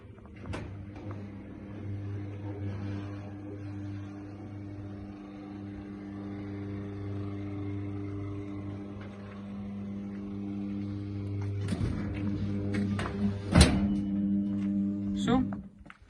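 A motorized folding accordion-style gate closes: a steady motor drone runs for several seconds and ends in a few sharp metallic clunks and knocks as the panels settle shut.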